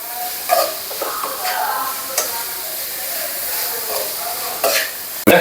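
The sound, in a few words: onions frying and being stirred in pan for egg fried rice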